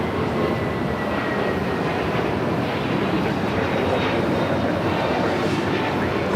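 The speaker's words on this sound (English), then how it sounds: "JetBlue Airways Link 1388 heading to Boston and an A321neo" A JetBlue Airbus A321neo airliner bound for Boston rumbles at Los Angeles airport, a steady broadband engine roar at moderate distance with a faint high whine, unbroken throughout.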